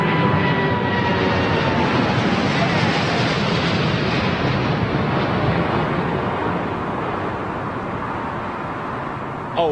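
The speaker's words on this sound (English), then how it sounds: "Now that's a nice, clean 787 going out." A Boeing 787 airliner departs Heathrow airport with a broad, steady jet roar that holds loud throughout and eases slightly near the end, wind buffeting the microphone.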